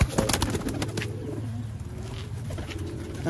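Sialkoti pigeons coo steadily in low, throaty tones, several birds overlapping close by in a continuous murmur with a few sharper sounds at the start.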